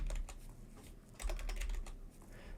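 Typing on a computer keyboard while entering large text with a type tool in Adobe Premiere Pro, a close, steady patter of key clicks with a brief louder burst midway, with no talking.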